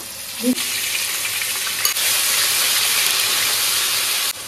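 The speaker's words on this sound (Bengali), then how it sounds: "আলুটা কেটে ধুয়ে পরিষ্কার করে নিয়েছি। এটাকে ভাজছি, ভাজা হচ্ছে।" Potatoes sizzle and hiss steadily in an oil-filled pan as cumin and onion paste are added, a broad continuous frying noise with a brief clink early on and a louder surge midway.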